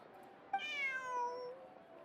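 A cat in the video game Genshin Impact gives one clear, drawn-out meow that slides downward in pitch, close and alone over faint background noise.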